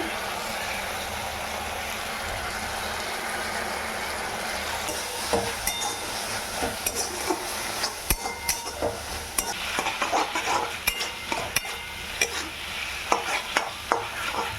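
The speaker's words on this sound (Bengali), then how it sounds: "এটা দিয়ে আবার ভালোভাবে কষে নেব।" Ground chilli, turmeric, cumin and coriander powders frying in a pan for a pointed gourd and prawn curry, a steady sizzle with scraping stirring strokes that grow busier and more clattery in the second half.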